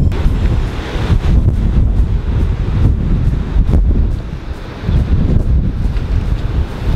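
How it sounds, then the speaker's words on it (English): Heavy wind buffets the microphone in continuous low rumbling gusts at a coastal pool in Hawaii, with a brief lull near the end before it roars back. "it is a little windy"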